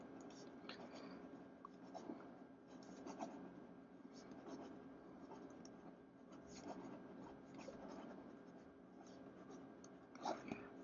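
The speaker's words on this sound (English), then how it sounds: "It is quite a wet pen, but let's see if it keeps up and write quickly." A Pelikan M1000 fountain pen scratches rapidly across paper, a faint, close, continuous rustling nib scrawl with small strokes and lifts.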